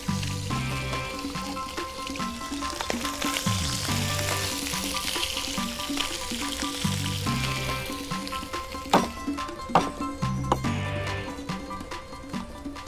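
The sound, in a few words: free-range chicken searing and browning in oil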